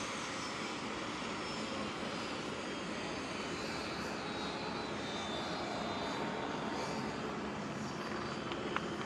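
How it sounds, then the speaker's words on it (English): Steady broadband roar of the Space Shuttle carrier aircraft's jet engines on the ground after landing with Endeavour, continuous and loud throughout with no clear spool-down, a faint tick near the end. "They will shut the engines down in just a moment."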